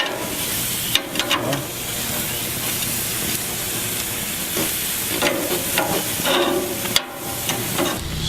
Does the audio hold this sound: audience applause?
no